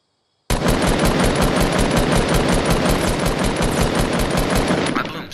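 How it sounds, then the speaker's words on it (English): Rapid, steady automatic fire from a blue SMG in Fortnite Battle Royale, a loud continuous burst of closely spaced shots lasting about five seconds before it tapers off at the end. "The reason I picked blue is because I'm in love with the blue SMG."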